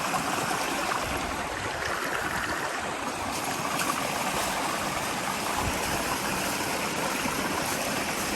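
Steady rushing of a stream flowing over rocks, broadband and continuous throughout, fairly close, with no voices.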